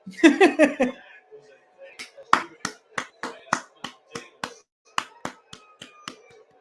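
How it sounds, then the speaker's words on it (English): Golf clap at a New York Mets watch party: a quick burst of several hands clapping, then a slow, deliberate series of about a dozen single claps, close and alone. "Golf clap."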